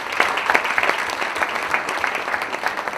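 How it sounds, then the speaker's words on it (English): An evening audience claps for a group of classmates standing up, a dense and fairly loud round of many hands that holds steady throughout with no talking. "Can we clap for them?"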